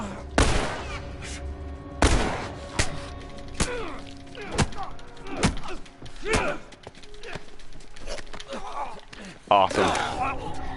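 Gunshots ring out in a video game, several sharp, loud bangs spaced irregularly over the span, with a voice and other game noises in between.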